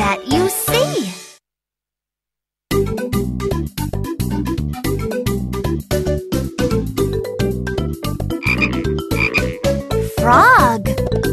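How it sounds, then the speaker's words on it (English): A frog croaks in a bright children's animal song, with bouncy music, a rising cartoonish call early on, a brief silence, then steady rhythmic backing and another croaking call near the end. "Frog."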